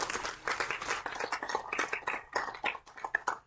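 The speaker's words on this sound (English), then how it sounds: "Let's give them a quick round of applause." A small audience at a campaign kick-off event gives a quick round of scattered, uneven clapping that tapers off.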